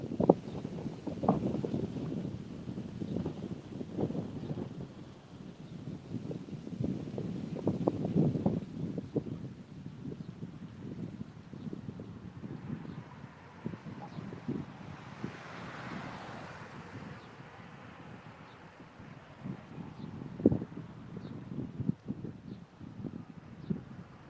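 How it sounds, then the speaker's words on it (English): Steady wind rumbles and buffets the microphone in repeated gusts, with a faint surf-like wash in the background and no talking. "It's very windy."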